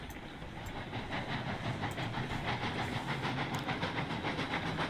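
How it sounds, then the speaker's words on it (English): A light steam train in the video game Railroads Online chuffing in a steady rhythm, with hissing steam and a rumbling, rolling undertone at moderate volume. "This is a lot lighter train, so I'm gonna get up to a lot higher pressure."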